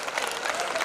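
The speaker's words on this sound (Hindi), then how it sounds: "तो मेहमानों के स्वागत में जोरदार तालियां बज जाए।" A school carnival crowd on New Year's Eve bursts into loud applause welcoming guests, a thick continuous wash of clapping throughout this very short moment.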